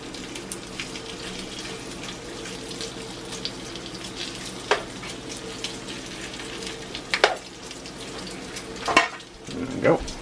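Bacon frying in a pan, a steady close crackling sizzle throughout with a few louder pops and utensil clatters near the end, no one speaking.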